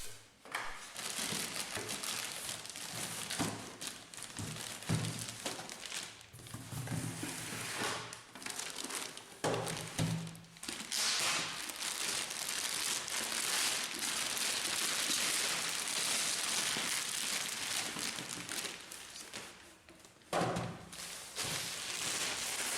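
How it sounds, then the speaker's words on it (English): A boxed HP 100 107 laser printer being pulled out of a plastic bag, giving long stretches of loud crinkling and rustling plastic with occasional thumps and brief pauses, and no talk. "Remove the printer from the box, and from the plastic bag."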